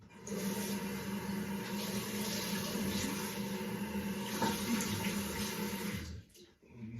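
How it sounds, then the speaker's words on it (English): Cold water runs and splashes steadily over a Filarmonica 14 shorty straight razor with a concaved bevel for several seconds, fairly close, then cuts off abruptly near the end. "I'm going to put some cold water on there, a bit of splash and we're done."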